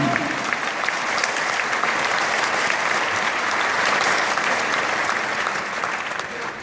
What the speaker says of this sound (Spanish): Con un aplauso, ¿cuánto crees?